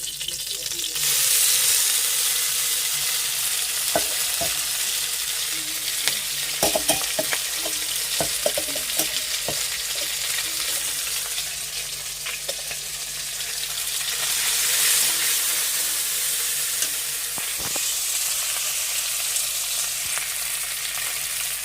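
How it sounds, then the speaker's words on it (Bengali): Fish oil sizzling in a hot wok, a continuous bright frying hiss with scattered pops and spatters, heard close up with no talk over it. "এই যে কড়াটা গরম হয়ে গেছে, এই যে মাছের তেলটা এটা দিয়ে দিই।"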